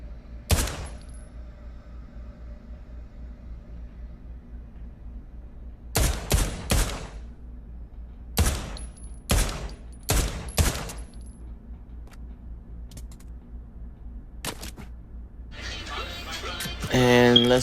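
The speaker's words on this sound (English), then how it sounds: "now we gonna hit the shots with the 1911" A 1911 pistol fired at a gun range in the Pavlov VR video game, with about ten sharp, loud reports coming singly and in quick pairs across several seconds, followed by a brief mechanical clatter at the end.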